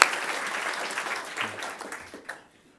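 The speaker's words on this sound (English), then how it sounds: "So a round of applause for Ashes" Audience applause for a finalist at the New Zealand Open Source Awards 2010, a dense burst of clapping that starts loud right away, carries on steadily, then thins into a few scattered claps and fades out.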